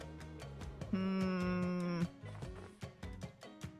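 A cow in a video game lets out a single loud, sustained moo lasting about a second, set against a rhythmic ticking game sound that continues before and after.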